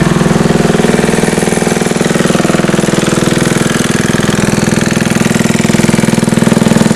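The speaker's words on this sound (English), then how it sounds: "I'm going to step the engine speed up." A 74-year-old Briggs and Stratton engine runs loud and steady on a dynamometer, its rapid even firing pulses forming a continuous close mechanical drone at raised speed.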